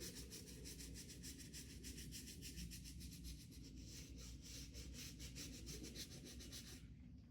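A brush gives a light scrub to black 2003 NYC Nike Air Force 1 sneakers, making faint, rapid rhythmic rubbing strokes that repeat steadily and stop near the end, with no voices.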